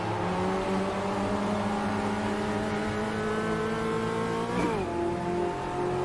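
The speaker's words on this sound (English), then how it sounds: "now I'm coming down to third just so I could get on the throttle a little bit sooner, power through" Race car engine in the Automobilista 2 sim racing game, steady high-pitched drone holding near constant revs, then a sharp downshift blip and renewed acceleration, loud and continuous with no talk.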